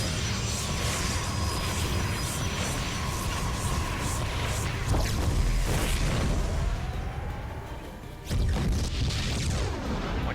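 A Protoss photon cannon being destroyed in a StarCraft II match, heard among dense battle noise with booms and a sharp crash near the end.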